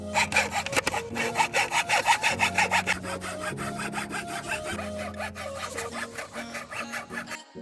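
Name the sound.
sawing thin plywood pieces for a boomerang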